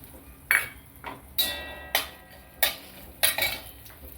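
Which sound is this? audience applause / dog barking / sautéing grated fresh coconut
sautéing grated fresh coconut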